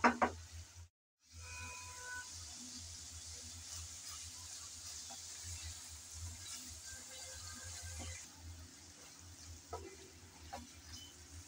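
Spice paste (masala) being sautéed for a Bengali chicken gizzard curry, giving a steady low sizzle and frying hiss with occasional stirring scrapes and knocks, a brief silent gap near the start, and no talking.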